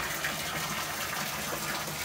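Water gushing steadily into a koi pond as it is refilled, a constant hissing pour with no breaks, fairly close, with no talking over it.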